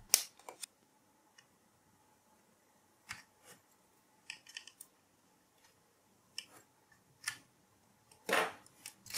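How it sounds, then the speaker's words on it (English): Tape is peeled from the film around the hard disk inside a Late 2012 Mac Mini during an SSD upgrade, making quiet, sparse crinkles and short crackling snips separated by near silence. "we need to remove that piece of tape first."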